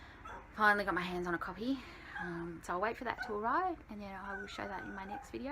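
A female dog whines and whimpers at a child gate at the top of the stairs, with high wavering yips and sooking sounds rising under close, continuous speech from someone talking over it.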